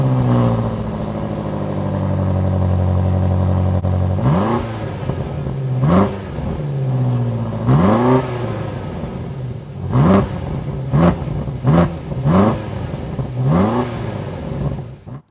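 A BMW M8 Competition V8 starts with a steady idle, then fires off a series of sharp, loud revs that climb and fall in quick succession, close and with no talking.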